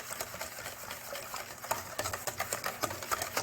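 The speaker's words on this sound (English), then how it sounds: "going to whisk that in." A whisk beats seasoning into a chicken and broccoli quiche mixture with soft, quick rhythmic taps and patter against the bowl, fairly faint and with no talking.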